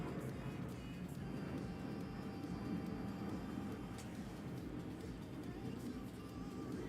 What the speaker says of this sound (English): I can't tell if that's a plane flying overhead or what it is, but that noise got really loud all of a sudden.